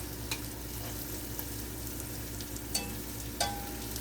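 Stewed beef sizzles steadily in a pot, a quiet even crackle broken by a few sharp clinks and scrapes from the stirring spoon, close and without talk.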